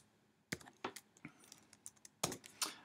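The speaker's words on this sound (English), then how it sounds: "So we'll press F8 on our keyboard" Keys tapped on a computer keyboard: a handful of sharp, close clicks at an uneven pace, with a pair of louder strokes near the end and no talking.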